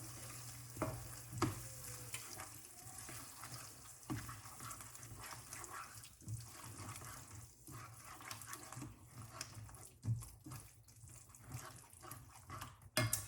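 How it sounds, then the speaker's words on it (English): Canned mushroom soup is stirred into a Thanksgiving dish, with irregular scraping and sloshing strokes that come and go over a low kitchen hum, a few sharper knocks near the end, quiet and close, with no talking. "Okay, so I'm just going to mix it in there and make sure it's all mixed in."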